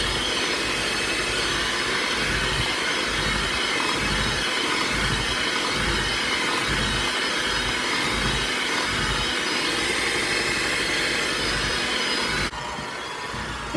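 An electric mixer blends dry ingredients into peanut butter cookie dough. It runs with a loud, steady whir close by, with a faint rhythmic pulsing as the beaters turn, then cuts off abruptly near the end.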